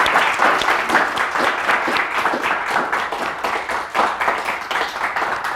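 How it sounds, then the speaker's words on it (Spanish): A seminar audience gives a steady round of clapping in a lecture room, many hands at once, dense and even for the whole stretch without fading. "démosle un aplauso a ellos por su trabajo"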